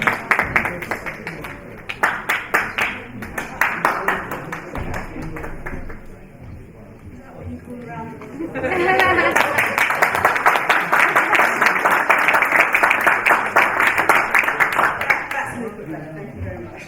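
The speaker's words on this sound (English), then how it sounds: "So please give a round of applause." A panel audience at the Commonwealth Africa Summit claps, first in scattered bursts and then in dense, sustained applause filling the hall, with a brief lull and talk in between.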